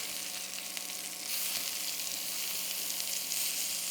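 Turkey burgers flipped and searing in a pan, a steady broad sizzle that swells slightly louder after a brief handling sound near the flip, with no talking.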